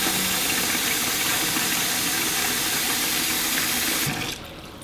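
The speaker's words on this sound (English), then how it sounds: "if you run enough water on them, the seed coats will literally separate from the little sprouts" Running tap water rinsing sprouts in a bowl, a steady loud hissing gush that continues without break and then cuts off abruptly near the end.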